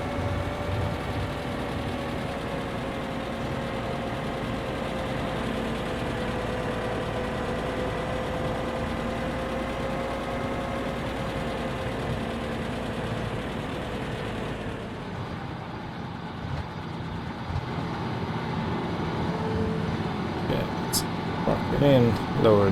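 A farm machine engine with a lowered header runs at a steady idle-like drone, then drops off sharply partway through, leaving quieter background with a few faint clicks.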